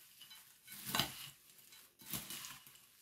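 Rose des sables mixture being stirred in a bowl, two short scraping bursts a second apart, fairly quiet and close with no voices.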